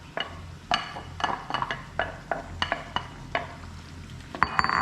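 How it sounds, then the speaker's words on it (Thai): Blanched surf clams are stir-fried with curry paste in a pan, with a soft sizzle under a series of spatula scrapes and shell clatters at an uneven rhythm, ending in a louder clink. "พอพริกแกงเขาก็ได้เข้ากับใส่หอยลงไปเลยจ้ะ"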